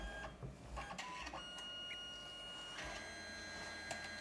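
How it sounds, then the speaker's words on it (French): A Canon SELPHY CP1500 compact photo printer runs nearby, with mechanical whirs, small clicks and a steady motor hum feeding paper, fairly quiet and alone. "on peut voir l'imprimante en action"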